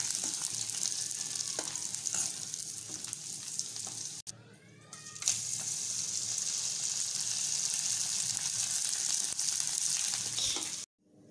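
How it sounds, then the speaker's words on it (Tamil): Dried leftover-rice crisps crackle and sizzle loudly in hot oil, a dense continuous frying hiss that briefly drops out midway, then resumes before cutting off near the end. "இப்போ இந்த காஞ்ச வத்தலை எடுத்து நான் உங்களுக்கு பொரிச்சு காமிக்கிறேன்."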